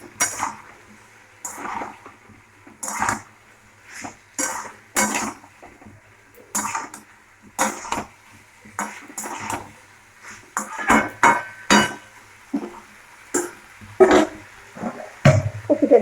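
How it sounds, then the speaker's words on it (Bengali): Cauliflower pieces tipped into a pan of oil and fried spices: a string of sharp clinks, knocks and scraping bursts from utensil and pan, irregular and close, growing busier toward the end, with no talk. "এবার দিয়ে দেবো কপিগুলো।"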